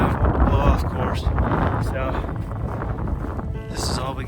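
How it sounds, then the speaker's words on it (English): Strong wind on a mountain ridge along the Skye Trail near the Quiraing buffets the microphone with loud, continuous rumbling gusts, while a person talks over it. "as you can hear, it's windy"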